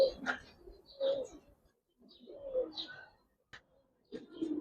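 Silver gribaz coloring pigeons coo close by in soft, throaty bursts, several separate calls spaced with short pauses between them.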